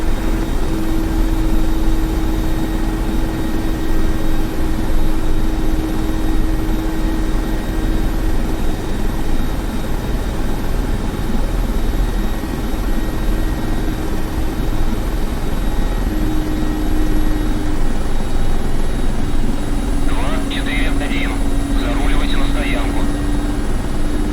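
Mi-24P Hind helicopter in the DCS video game, a steady droning turbine and rotor hum running continuously at even loudness, with a brief rise of extra whine near the end.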